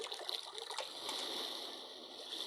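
Steady, hissy rush of flowing water from a white noise machine's brook setting, continuous and fairly soft with a few brief splashy bursts near the start.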